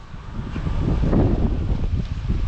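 A strong wind blows across a garden where string beans are grown, a rough, rushing gust that swells toward the middle and then eases, with no voices.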